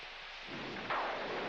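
Steady hiss of rain sets in and thickens, with a brief louder burst of patter near the end; no voices.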